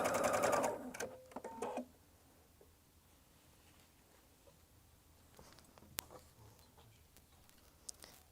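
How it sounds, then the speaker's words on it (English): A sewing machine runs in a fast, loud burst of stitching for under two seconds, then stops, leaving quiet room sound with a few small clicks. "I sew it on my sewing machine first."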